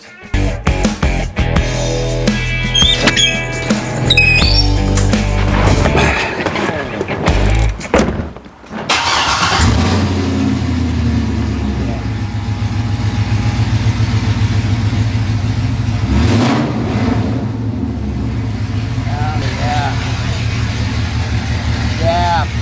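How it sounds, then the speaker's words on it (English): A C6 Corvette convertible with its mufflers removed rumbles loudly and close, idling roughly and revving. It cuts out briefly midway, then settles into a deep, steady drone. "I kind of like the sound of it without the mufflers on it. This thing sounds like a beast."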